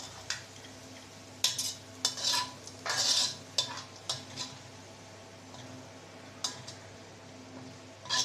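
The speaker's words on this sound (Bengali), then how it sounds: "পেঁয়াজ রসুন মরিচ একসাথে ভেজে নিচ্ছি" Onion, garlic and dried chili frying together in a pan, a quiet steady sizzle under intermittent scraping and stirring clinks of a utensil against the pot, with no talking.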